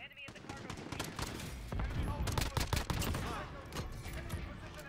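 Rapid gunfire in Modern Warfare multiplayer, a dense burst of automatic shots from an Uzi and pistol cracking close and loud, clustering in quick volleys over a few seconds beneath faint game noise.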